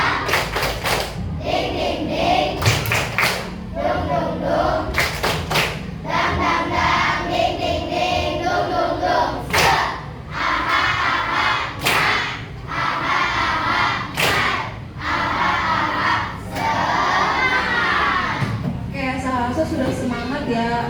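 Primary school pupils in a classroom doing the "tepuk semangat" clapping chant, rhythmic bursts of claps alternating with shouted group chanting, repeated over and over at close range.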